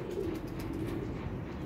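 Pigeons coo softly in a low, rolling murmur amid a busy loft of fledglings, a steady throaty burble close by and without talk.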